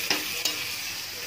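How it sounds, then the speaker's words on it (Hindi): Carrot and capsicum for masala pasta are stirred in a sizzling pan, with two quick spoon scrapes against the metal early on over a continuous close frying hiss. "अच्छे से मिक्स कर रहे हैं।"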